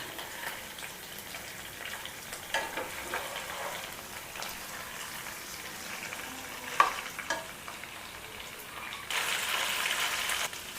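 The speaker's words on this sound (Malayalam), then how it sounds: "ചിക്കനൊക്കെ ഫ്രൈ ആയിട്ടുണ്ട്" Chicken pieces fry in oil for a cooker masala shawaya dish, a soft, steady sizzle with occasional light stirring knocks, swelling slightly louder toward the end.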